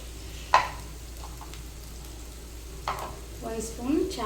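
Ridge gourd masala with turmeric frying in oil: a soft continuous sizzle, broken by a few close scrapes and clinks as a spoon stirs the pan.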